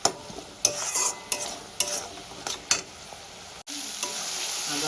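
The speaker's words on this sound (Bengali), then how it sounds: "এবার ভালো করে কষিয়ে নেব, কারণ আদা রসুনের কাঁচা গন্ধটা চলে যাওয়া পর্যন্ত কষাতে হবে।" Ginger, garlic and green chili paste sautéing in a pan, with sharp spatula scrapes every half second or so over a steady sizzle that swells louder toward the end, close and alone.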